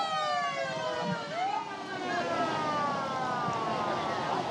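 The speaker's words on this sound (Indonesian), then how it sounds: "Keza, bisakah Anda perkirakan ini ada berapa jumlah mobil pemadam kebakaran yang sedang bertugas di lokasi Anda saat ini?" Fire engine sirens wail at a cooking-oil factory fire in Bekasi, several overlapping rising and falling tones sweeping continuously over a steady background roar of traffic and activity.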